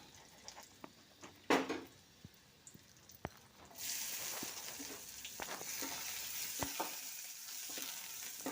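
After a few scattered clicks and taps, onions go into a pan of hot oil already holding mustard seeds, dried chillies and crushed garlic, and a continuous close frying sizzle takes over for the rest of the clip.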